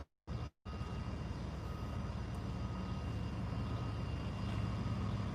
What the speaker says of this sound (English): Just waiting for Mojo to finish sniffing the truck to go by.